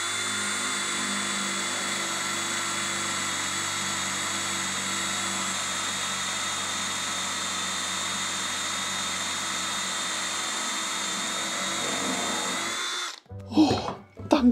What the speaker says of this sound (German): Gut, jetzt bohren wir mal hier.